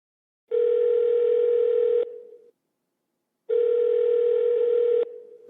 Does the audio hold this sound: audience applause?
no